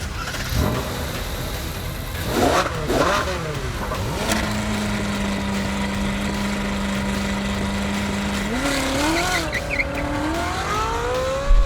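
Ferrari 458 Spaziale with a redesigned 4.5-liter V8 accelerating, a loud sustained engine drone that holds steady then rises in pitch through revs, with brief bursts and engine noise filling the whole stretch.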